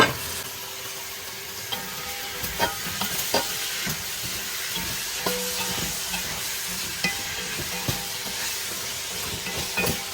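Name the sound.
meat sizzling and being stirred in a pot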